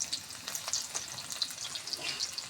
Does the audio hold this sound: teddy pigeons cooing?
no